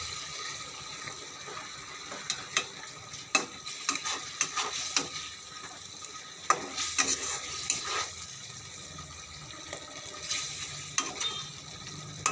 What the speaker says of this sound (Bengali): একটু নাড়িয়ে দেবো